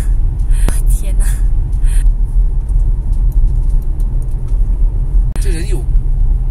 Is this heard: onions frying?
no